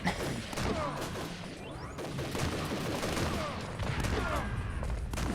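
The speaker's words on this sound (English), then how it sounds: "Those didn't do that much damage, even though they made explosion noises." Explosions and gunfire crackle in the video game Army Men: Sarge's War, a dense, continuous barrage of bursts, crashes and whooshes close up with no break.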